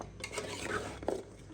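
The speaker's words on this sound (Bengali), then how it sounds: "আমি চামচ দিয়ে মাখাচ্ছি।" A spoon stirs and mixes spices into beef trotters in a pot for Pakistani-style paya nihari, giving a close, busy scraping and clinking with a brief louder knock near the end.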